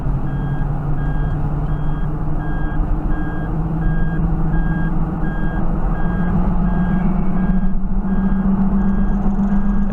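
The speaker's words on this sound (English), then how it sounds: "That car is so loud." A loud vehicle outside, steady engine rumble with a repeating reversing beep over it, continuous for the whole stretch.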